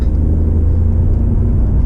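A small Skoda Fabia Monte Carlo car engine drones steadily at close range, a continuous low rumble without a clear rise in pitch.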